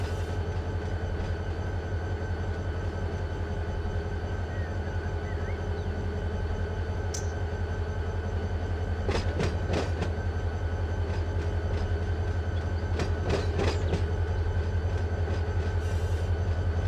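Freight cars of a CSX train rolling through Rice Yard in Waycross, Georgia, in the Run8 train simulator, a steady low rumble with faint rail squeals and a few sharp clanks near the middle and end, no talking.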